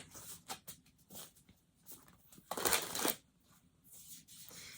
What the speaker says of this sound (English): Let's pull a couple of tarot cards.